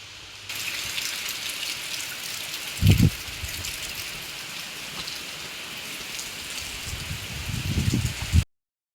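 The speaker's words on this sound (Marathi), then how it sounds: "बघा कसा पाऊस येतोय, खूप जोरात पाऊस येत होता" Heavy rain falls in a dense, steady hiss, loud and unbroken, with a couple of brief low thuds or gusts rising over the downpour.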